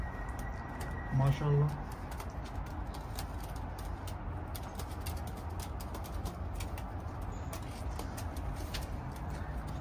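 Teddy breeder pigeons in a London loft give a short low coo early on, with a voice talking over steady background hiss and faint clicks.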